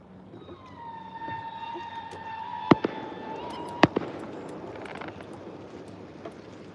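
Fireworks go off outdoors at night near a lake where bass fishing is under way. A rising whistle is followed by two sharp, echoing bangs at mid distance over a soft background hum. No one speaks.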